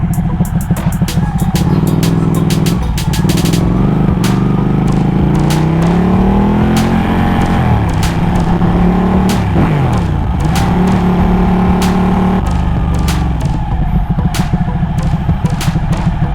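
A Ducati 1199 motorcycle weaving through traffic, its engine droning loud and close throughout with rising and falling revs, wind rush and sharp ticking transients over the top.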